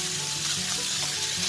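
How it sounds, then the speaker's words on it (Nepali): Buff keema frying in about three spoonfuls of mustard oil in a pan gives a steady, close sizzle with light crackle throughout, with no one talking. "3 चम्चा जति तोरीको तेलमा मैले यसरी यो बफको किमालाई फ्राई गर्न जाँदैछु"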